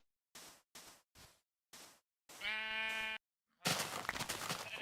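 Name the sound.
sheep bleating in Minecraft video game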